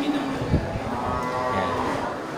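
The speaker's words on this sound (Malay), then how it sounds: "Ini kerbau baru lepas dari kubangan" A water buffalo, just out of a wallow, lows at a busy animal market: one deep, drawn-out moo rising and holding against a murmur of crowd and livestock noise.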